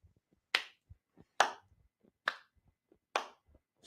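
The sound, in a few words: slow clap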